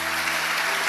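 A church congregation claps during a Sunday evening worship service, a brief wash of steady, dense applause filling the room.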